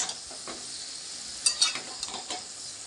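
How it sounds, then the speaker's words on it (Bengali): Spiced, diced boiled potatoes tossed into a hot wok, a bright close sizzle with a few scraping stirs of a spatula, short and without talk. "আলুটা আমি এই কড়াইতে দিয়ে দেবো।"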